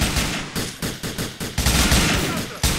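Video game shootout gunfire, a string of loud, close single shots fired at irregular intervals, some overlapping in quick pairs, over a busy background of game noise.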